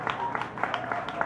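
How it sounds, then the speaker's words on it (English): A magic show audience at the Barn at UCR gives a volunteer a brief round of applause, heard as a short spell of quick, moderately loud clapping. "please give Joe a big round of applause before we begin"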